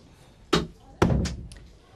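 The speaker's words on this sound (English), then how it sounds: "close the door" A classroom door shuts with two solid thuds about half a second apart, a sharp knock followed by a heavier slam that rings briefly, both close by in a quiet room.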